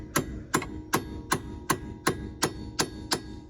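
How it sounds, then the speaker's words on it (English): Nine evenly spaced metallic hammer taps drive a part into place on the brake of a Yamaha Viking side-by-side during a pad replacement, crisp and close with nothing else heard. "So I get a hammer and I just tap it in there"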